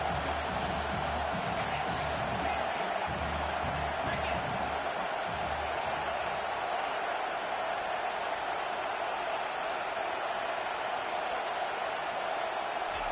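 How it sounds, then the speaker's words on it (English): A packed college football stadium crowd at an Alabama game roars in a steady, loud wash of cheering that holds without a break from start to finish. "this crowd trying to help keep them there"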